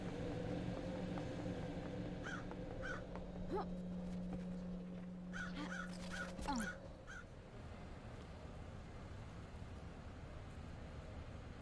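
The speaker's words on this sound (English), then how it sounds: "I like the crows." Crows caw in the Paradise video game, several harsh calls spaced across the first seven seconds over a steady low ambient drone and a sustained hum that stops partway.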